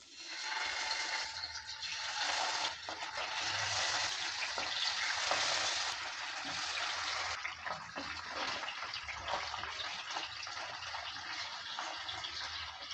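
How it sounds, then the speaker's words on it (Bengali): Whole bata fish fry in hot mustard oil over low-medium heat, a steady, loud, close sizzle and crackle that holds throughout without talking. "লো মিডিয়াম আঁচে আমি এটাকে ভেজে নেব।"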